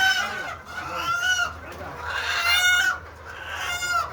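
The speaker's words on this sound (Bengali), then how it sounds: "দেখেন কত মুরগি, মুরগি আর মুরগি।" Many chickens crowded together at a market in Bangladesh, repeated loud nearby clucks and squawks overlapping in bursts, with occasional crowing-like calls and light background voices.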